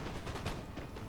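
Cannon fire from the Napoleon Total War video game, a dense, rumbling barrage of overlapping booms with a continuous low roar, heard without any talking.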